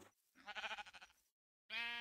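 Minecraft sheep bleating in two bursts: a wavering, pulsing baa, a short pause, then another bleat starting abruptly, fairly quiet and with no talk over it.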